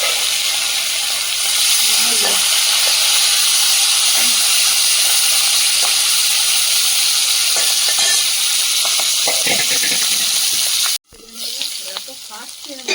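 Tengra fish fry in hot oil with a steady, loud sizzle and crackling spatter, sharp pops breaking through; the sound cuts off abruptly near the end, then returns quieter and choppier, like a lid being lifted or shifted.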